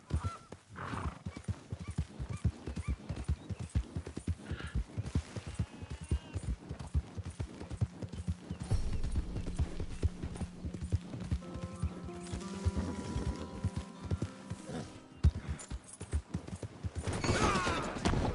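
A horse in the video game Red Dead Redemption 2, galloping with loud rapid hoofbeats and whinnying, then tonal game sounds and thuds near the end.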